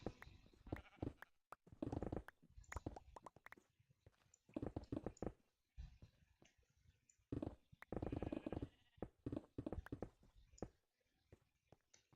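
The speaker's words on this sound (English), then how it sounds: "It's just a red sheep right here, man. What is this sheep doing?" A red sheep in Minecraft bleats in short, repeated bursts, loud and close, separated by brief quiet gaps.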